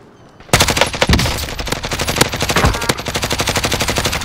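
Call of Duty Warzone gunfire: a loud, sustained rapid automatic burst starting abruptly and rattling on continuously without pause.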